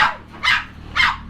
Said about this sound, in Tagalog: Nakita niyo naman, napakadaming aso.